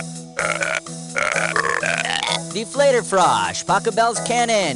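A woman burps a melody, Mozart's Eine kleine Nachtmusik, as a gag from the trivia video game You Don't Know Jack; loud, drawn-out belches rise and fall in pitch, with a voice talking over parts.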